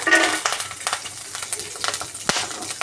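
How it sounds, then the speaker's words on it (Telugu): Dry fruits fry in hot ghee in a pan, giving a crackly sizzle with irregular pops and clinks as they are stirred, close and fairly loud. "డ్రై ఫ్రూట్స్ వేగించుకున్నాము డ్రై ఫ్రూట్స్ వేగిపోయాయి"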